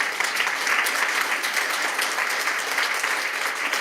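An audience at a panel discussion on cultural diversity and social cohesion claps in a loud, sustained round of applause, a dense patter of many hands that holds steady throughout.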